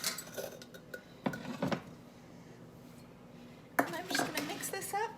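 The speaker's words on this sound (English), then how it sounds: "I'm just going to mix this up here with my mix and scraper" A mixing scraper stirs graham cracker crumbs and sugar for a chocolate ganache tart crust, giving soft scraping and clinking against a bowl in two close bursts with quiet gaps between.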